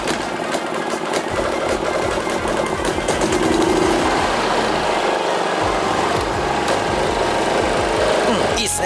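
A hand-portable 2.3 kVA inverter generator, freshly serviced and started manually with the choke, runs steadily and close by, its continuous buzzing engine drone holding an even loudness throughout.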